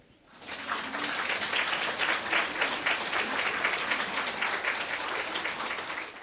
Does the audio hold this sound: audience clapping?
yes